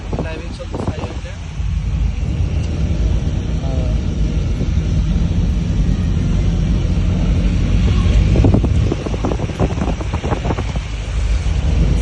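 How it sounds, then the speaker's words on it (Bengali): Steady road and wind rumble from a car driving along a highway, heard from inside the moving vehicle, continuous and fairly loud with a few brief bursts of talk over it. "ড্রাইভিং চলছে হাইওয়েতে।"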